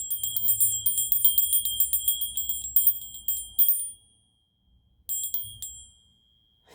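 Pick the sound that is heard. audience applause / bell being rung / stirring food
bell being rung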